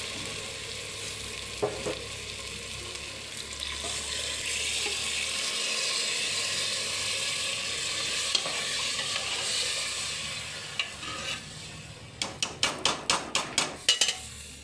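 Water poured into a pan of yellow moong dal on a gas stove, a steady close hiss and sizzle with occasional stirring clanks, ending in a quick run of sharp metallic taps.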